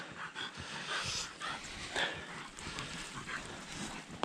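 Dogs pant quickly and rhythmically close by, with faint rustling and shuffling around them.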